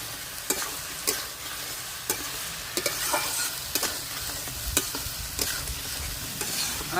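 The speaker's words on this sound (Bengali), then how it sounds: "তাই আমি কাঁচা লঙ্কাগুলো দিয়ে দিচ্ছি একসঙ্গে ভাজা ভাজা করে নিই" Green chilies fry in oil with a constant close sizzle, broken by regular sharp stirring scrapes every second or so; no voices.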